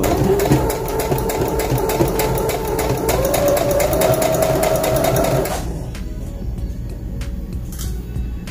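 A sewing machine runs in a fast, steady buzz while stitching a girl's Easter dress, whirring up close for several seconds before stopping, leaving only faint clicks and handling noises.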